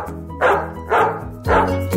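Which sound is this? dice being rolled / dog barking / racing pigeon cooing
dog barking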